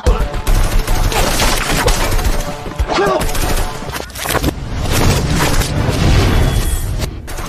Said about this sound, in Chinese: 随着枪声的响起，张家人开始找地方掩护，而胖子则拉起吴邪向外逃去